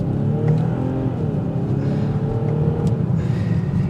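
BMW X5 45e plug-in hybrid SUV accelerating hard in sport mode, a steady close engine and exhaust drone rising in pitch with continuous road noise, no talking.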